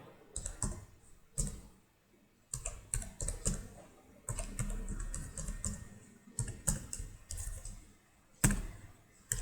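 Java code typed on a computer keyboard: bursts of rapid, close key clicks broken by short pauses, with occasional heavier single taps, steady and clear with no voices.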